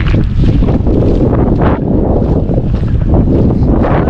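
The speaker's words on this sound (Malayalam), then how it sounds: "അവിടെ നല്ല കാറ്റാണ്, കാറ്റിൻ്റെ ഒരു കാറ്റുള്ള നാടാണ്, കാറ്റിൻ്റെ നാട്." Strong wind buffeting the microphone on an Andhra Pradesh road trip in an auto rickshaw, in a constant, loud roar with gusty surges throughout.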